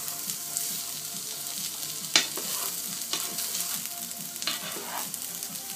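Onions frying in a pan on a home stove, a steady close sizzle with brief scrapes and clinks from stirring, one sharp utensil knock partway through.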